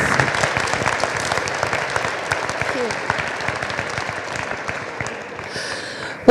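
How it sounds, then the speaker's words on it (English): An audience at a net-zero manufacturing conference applauds a keynote speaker, steady sustained clapping from a sizable crowd, with crisp individual claps standing out and the applause tapering near the end. "please give a very, very big round of applause to Catherine Bennett"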